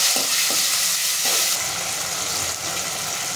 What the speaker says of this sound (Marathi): त्याच्यामध्ये एक चिरून घेतलेला कांदा आणि टोमॅटो टाकून आपण परतून घेऊया।